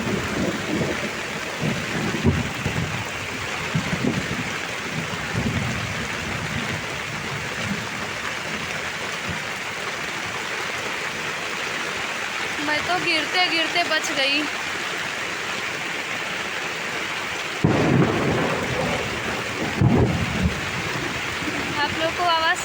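A heavy thunderstorm pours down in a constant roar of rain on surfaces, with deep thunder rumbling at intervals and someone speaking briefly over the downpour.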